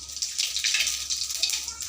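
Whole cumin seeds sizzle in hot oil in a pan for a Bengali potato and eggplant curry, a close, steady hiss that crackles in small bursts.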